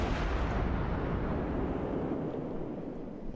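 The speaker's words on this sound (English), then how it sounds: "Shooting at this Miyogi." Cruiser guns firing on a battleship in the naval game World of Warships, a dense, continuous roar of heavy gunfire and rumbling booms filling the whole stretch with no talk.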